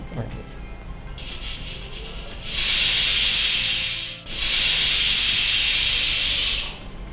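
A pressure cooker on the stove whistles, releasing loud sustained hissing blasts of steam in two long bursts separated by a brief dip, after a quieter start.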